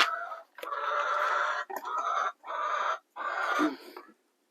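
A chicken clucks close by in several short, distinct bursts separated by brief pauses, fairly quiet and heard alone without talking.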